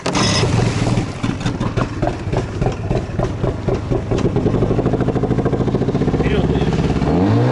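A water-jet engine on a new HDPE boat cranks and catches, settling into a rhythmic, chugging idle close by, with voices talking briefly over it.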